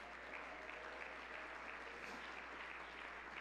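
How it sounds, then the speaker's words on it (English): Pentecostal congregation clapping hands during a sermon, a faint, steady blur of many hands heard from afar beneath a low constant hum, with no voices standing out. "If you believe it, clap your hands unto God"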